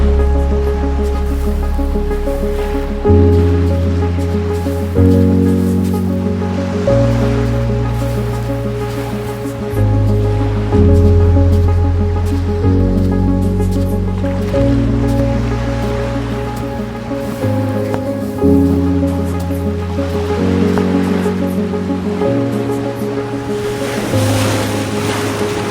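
Pacific Ocean waves wash onto a sandy turtle-nesting beach, the surf surging and receding under a prominent, slowly shifting orchestral music score.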